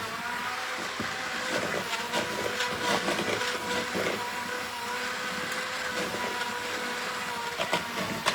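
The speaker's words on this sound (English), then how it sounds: "Turn that mixer down." An electric mixer churns strawberry pie dough with flour added bit by bit, a steady close whirring drone with faint knocks and rattles running throughout, no voices.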